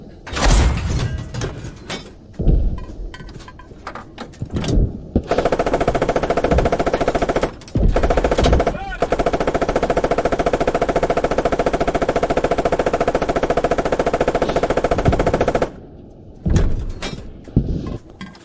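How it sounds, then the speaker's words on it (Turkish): Heavy, rapid tank firing bursts in the video game Squad, sustained for several seconds at a time and broken by sharp impacts and metallic clanks. "Arkamızdan bizim tank sıkıyor. Onun sesi."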